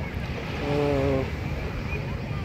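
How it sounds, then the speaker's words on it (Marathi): Sea waves on a Maldives beach roll and wash in a steady broad rush with wind noise, a brief tonal hum rising midway. "बघा लाटा कशा येतात"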